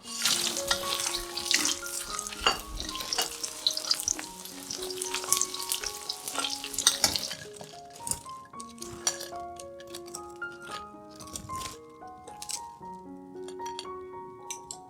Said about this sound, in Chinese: 将炸好的鲍鱼菇回锅用大火炸至酥脆